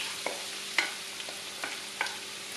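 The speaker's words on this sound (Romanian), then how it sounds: "Punem uleiul la încins într-o tigaie. Când s-a încins, adăugăm ceapa" Faint, thin sizzle of onion frying in hot oil in a frying pan, with a steady hiss broken by a few light scraping clicks from stirring.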